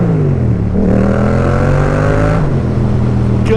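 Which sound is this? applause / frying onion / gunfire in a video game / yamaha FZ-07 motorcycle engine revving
yamaha FZ-07 motorcycle engine revving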